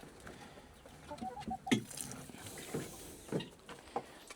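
Backyard hens cluck softly on a hot day, giving close, intermittent clucks and short calls against a faint background.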